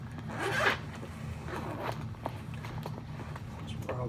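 A single quick zipper pull opens the main compartment of a Veto MB2 HVAC tool bag, close and crisp, followed by faint handling clicks and rustles.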